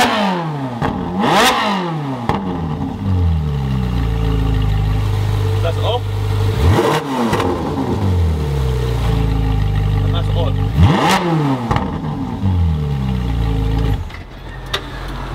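A Ferrari 458 Spider with an Armytrix titanium exhaust, valves open, revs loudly several times, each rise in pitch followed by a fall, with a rumbling idle in between.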